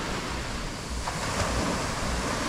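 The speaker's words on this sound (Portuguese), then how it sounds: "O mar está chegando valendo, ó." Steady roar of sea waves washing up the beach at high tide at Praia dos Carneiros in Tamandaré, Pernambuco, a continuous broad rushing wash with wind noise and no talking.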